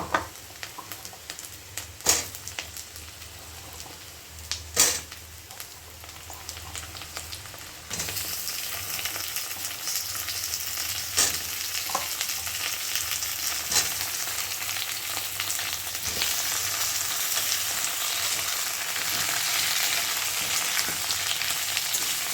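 Sweet pumpkin pieces drop into hot oil in a pan, a quiet sizzle swelling into a loud, steady frying hiss, with a few sharp clinks of stirring along the way and no talk.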